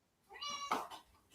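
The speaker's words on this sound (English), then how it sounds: "Oh, there she is. Meow, meow, meow." A single close cat meow, a clear drawn-out harmonic call followed by a brief breathy tail, alone in a quiet room.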